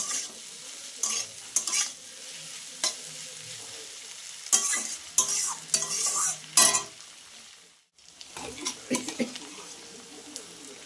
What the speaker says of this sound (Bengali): এবার আর ঢাকবো না, এবার খানিকটা এইভাবেই ভাজবো